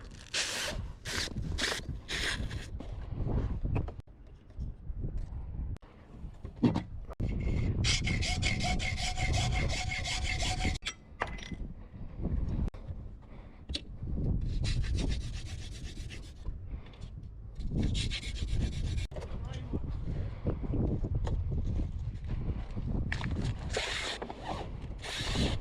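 Sail battens for a new mainsail being cut shorter with a hand saw, heard as close, repeated rasping strokes in several bursts with short pauses between them, alone and without talk.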